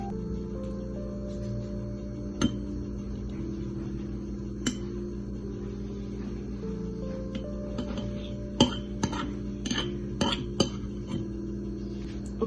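A spoon clinks against a glass jar while plain yogurt is handled for a fruit parfait, several sharp isolated clinks spread out over quiet kitchen background, growing more frequent toward the end.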